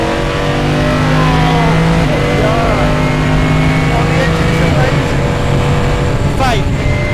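A loud racing-car engine in a driving simulator game holds a steady, dense roar with rising and falling revs and gear changes throughout.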